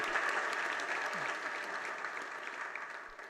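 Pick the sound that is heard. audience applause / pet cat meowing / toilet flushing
audience applause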